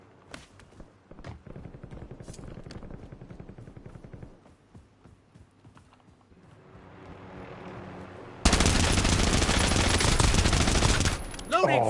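Gunfire crackles in scattered shots in the Call of Duty Warzone video game, then erupts into a loud, sustained automatic burst near the end, alongside footsteps and some talking.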